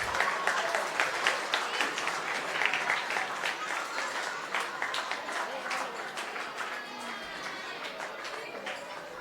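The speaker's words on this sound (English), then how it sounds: "please give a big round of applause for her" Parents at a school annual day applaud a student medal winner with a big, sustained round of clapping that holds steady for several seconds, with murmuring voices in the crowd.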